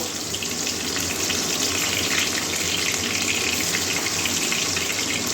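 Pointed gourd frying in a pan for an egg and pointed gourd dish, giving a steady, close broadband sizzle that runs unbroken with no talk.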